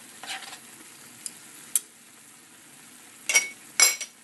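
Eggplant and tofu being stirred in a hot pan with chili black bean sauce mixed in, giving a faint steady sizzle broken by a few scraping, clinking strokes of the utensil.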